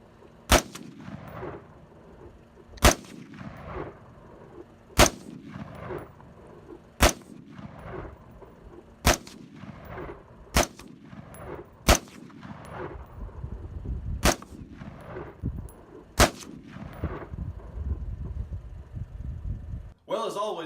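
Rifle shots from a Smith & Wesson M&P 15 Sport II fired outdoors in the hills, nine sharp cracks spaced about two seconds apart, each followed by a rolling echo.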